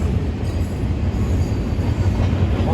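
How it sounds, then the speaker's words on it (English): Norfolk Southern freight train passing in Duluth, Georgia, with loud continuous rumble of rolling wagons, steady wheel noise and a faint high squeal, close by and with no talking. "that's a cool looking train right there on the coast of Georgia"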